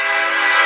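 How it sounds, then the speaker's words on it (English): Brief blast of a coal train's horn in the Team Fortress 2 game, a loud, sustained harmonic blare heard alone and close. "as you can probably hear, there's a train behind me"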